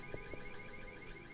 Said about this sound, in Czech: vypni si ten alarm